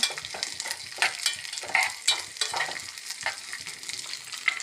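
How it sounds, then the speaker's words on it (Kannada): Raisins fry in ghee in a pan while kheer is made, giving a continuous close sizzle with regular stirring scrapes and light metallic taps throughout. "ಒಣ ದ್ರಾಕ್ಷಿನೂ ಹಾಕ್ಕೊಂಡು ಸ್ವಲ್ಪ ಫ್ರೈ ಮಾಡಿ"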